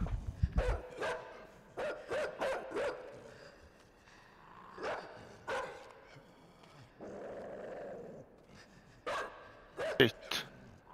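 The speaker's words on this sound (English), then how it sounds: "Is that sound a dog? I think it is a dog." A dog in the video game INSIDE barks in repeated sharp bursts mixed with growls and whimpers. The noises come from a moderate distance with uneven pauses between them.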